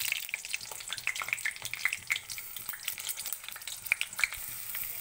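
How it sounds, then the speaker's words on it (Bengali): Pointed gourd (parwal) coated in salt and turmeric frying in hot mustard in a pan gives a steady bright sizzle with scattered crackles and pops throughout, close and alone without talk. "এবার আমি এর মধ্যে লবণ হলুদ মাখিয়ে রাখা পটলটা এর মধ্যে ছেড়ে দিচ্ছি"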